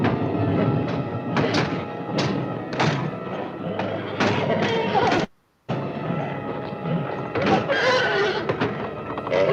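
A horse neighs and whinnies in a 1963 horror film soundtrack, loud and close, with thumping hoof sounds and a dense, busy mix broken by a brief silent gap midway.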